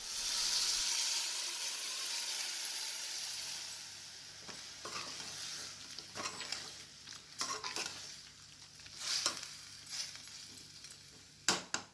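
Chicken pieces tipped into a hot pan for green chilli chicken sizzle and fry steadily, with a few stirring scrapes and utensil clinks near the end.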